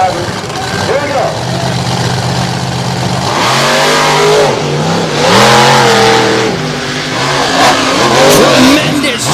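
Drag race cars, the Avenger and the Tailgater, in the championship race at Evansville, engines revving and roaring hard through rising gear changes, loud and close, beneath excited commentary.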